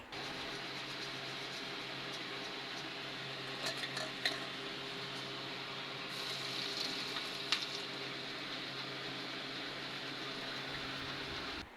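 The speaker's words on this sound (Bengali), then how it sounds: "এখন ভেজে নিচ্ছে মটর বুট" Dried peas fry in a pan with a faint, steady sizzle, broken by a few light scrapes and clinks of a utensil against the pan.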